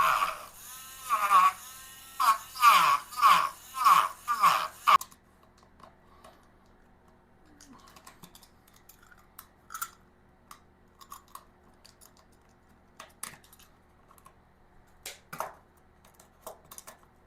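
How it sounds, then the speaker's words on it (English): A small low-powered cutting tool cuts briefly through material during a motorcycle alarm install on a Lifan KPX 250, giving a quick run of rhythmic buzzing bursts up close before dropping to faint scattered handling clicks. "Just going to take this little cutting tool, see how well it cuts."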